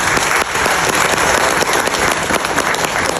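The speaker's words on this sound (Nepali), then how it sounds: "सबैले ताली पनि पड्काउने कार्यक्रम गर्नुहोस्" Guests at a wedding ceremony clap together in a loud, continuous burst of applause that stays steady for a few seconds without a break.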